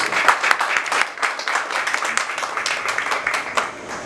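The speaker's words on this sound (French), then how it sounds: "Vos applaudissements sont utiles." Audience at a beauty institute graduation ceremony claps for about four seconds, a dense, steady patter of many hands at moderate level with a brief dip partway through.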